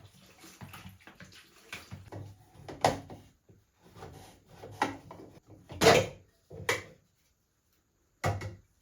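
Liquid sloshing inside a black-and-white film developing tank as it is agitated by hand, a series of irregular splashy knocks and swishes with short pauses between them, close and with no talking.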